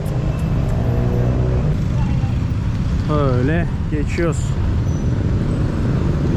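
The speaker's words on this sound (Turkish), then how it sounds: "Çok fazla trafik var abi bak." Steady city road traffic in Malaysia, a continuous rumble of passing cars and engines heard close by, with someone talking briefly over it midway.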